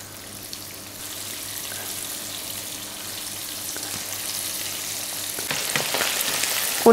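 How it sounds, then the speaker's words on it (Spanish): Sardines frying in hot oil, a steady close sizzle and bubbling that builds slightly in intensity over several seconds. "Con el aceite caliente freímos las sardinas."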